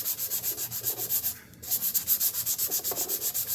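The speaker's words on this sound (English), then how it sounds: "I'm using 400. It's a wet, dry sandpaper." Dry 400-grit wet/dry sandpaper rubs on a piece of glass in a steady, close back-and-forth rhythm, about a dozen strokes with a brief pause partway through.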